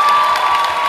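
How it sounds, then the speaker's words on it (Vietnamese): An audience at a singing competition cheers and applauds a singer, a brief, loud wash of clapping and crowd noise. "một tràng pháo tay nữa cho Úc Tiền"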